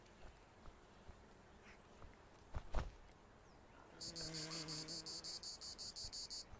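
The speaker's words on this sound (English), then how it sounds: "That sounds like bees." Insect buzzing in the survival video game Survival: Fountain of Youth: a faint background hum, then a louder pulsing buzz starting around four seconds, following a few soft footsteps and thumps.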